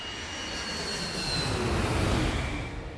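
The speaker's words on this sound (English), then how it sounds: "They're flying a Boeing 757, a state-of-the-art airplane" A Boeing 757 airliner cruising at altitude, heard as a steady, dense broadband roar with a faint high whine, holding even and loud for about three seconds with no voices.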